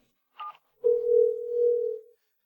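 A telephone dial tone sounds as a call is placed: a short beep, then a clean steady tone lasting over a second, close and alone in silence.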